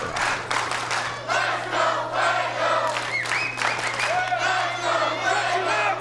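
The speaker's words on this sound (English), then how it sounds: "An entire crowd chanting the praises of the one and only Fuego del Sol" A wrestling arena crowd chants in unison for the luchador Fuego del Sol, a loud, steady, rhythmic roar of many voices with whoops and cheers rising through it for the whole stretch.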